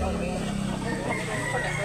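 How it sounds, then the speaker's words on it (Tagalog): A rooster at a chicken market in Consolacion, North Cebu, crows and clucks close by amid a busy, noisy background, with people talking over it. "Gwapong manok."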